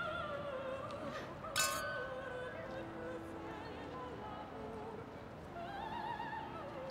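Wine glasses clink together in a toast, a short bright chime rising above a busy room with voices and background music, heard near and clear.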